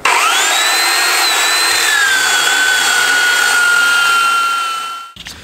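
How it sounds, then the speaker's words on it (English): A power sander runs continuously across a wooden mechanics workbench top, a loud steady whine with a shifting tone that cuts off abruptly near the end. "We are done sanding on this table."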